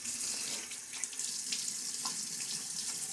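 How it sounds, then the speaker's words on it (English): Water runs from a bathroom tap and splashes during a wet shave with a Wolfman safety razor, a steady close hiss and trickle with no talking. "Splashed a little bit of water up on there."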